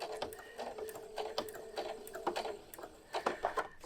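A sewing machine runs a straight line of stitches through fabric up to a corner, a close mechanical whir with repeated short ticking pulses of the needle, uneven in rhythm and free of talking.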